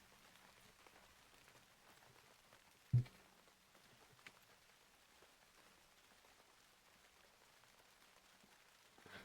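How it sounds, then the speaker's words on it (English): Soft, steady rain patters faintly as a background sound effect while playing World of Warcraft, with a single louder thump partway through and a couple of small knocks. "I'm noticing the volume of the rain sound effect that I have."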